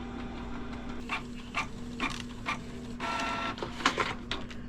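A 3-in-1 printer runs through a photocopy job, giving a steady mechanical hum with repeated clicking and whirring pulses as paper feeds through, close and without voices.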